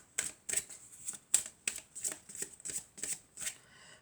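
Tarot cards are shuffled and laid down, giving about ten crisp, evenly spaced riffling snaps, close and quiet, with no talking.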